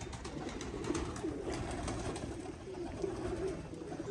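Pigeons coo steadily in a loft, with soft, low throaty calls repeating close by over a continuous bed of fluttering and chatter from the flock.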